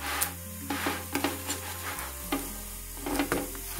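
A flipped adai dosa, a lentil crepe, fries on a pan, with a soft steady sizzle under irregular scraping and rubbing strokes.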